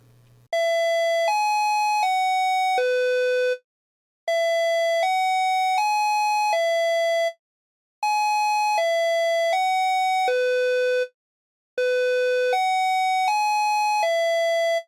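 SiraTone dual-tone Westminster chime on its high tone, ringing bright electronic notes in four-note phrases separated by short pauses, loud and clean with nothing else heard.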